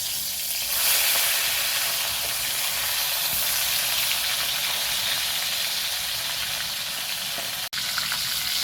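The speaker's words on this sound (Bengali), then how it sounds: "মাছগুলোকে আমি আর এক পিঠ উল্টে ভেজে নেব।" Steady, dense sizzle of pieces of rohu-type fish frying in hot oil after being turned over, a continuous close hiss with one sharp click near the end and no talking.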